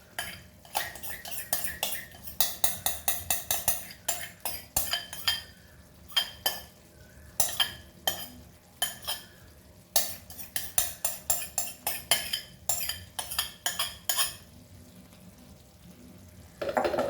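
Metal utensil scraping and clinking against a pan as fresh cream is stirred into beef stroganoff sauce with mustard and tomato, a run of quick repeated taps and scrapes with short pauses, close and clear with no talking.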